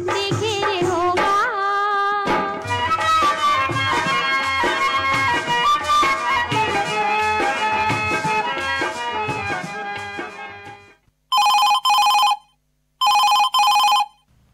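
A telephone rings twice in clear bursts on a phone-in Chhattisgarhi song radio show, following a stretch of loud folk song music that cuts off before the rings.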